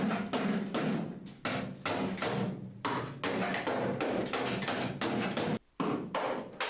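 A hammer knocks old sound deadening off the bare metal floor of an Opel Kadett historic rally car body, a close, steady run of dull thuds and taps with brief gaps.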